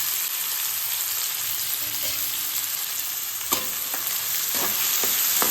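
Finely chopped onions, three medium ones, sizzle steadily in hot oil with cumin, a continuous frying hiss with a few sharp stirring clacks of a spoon against the pan.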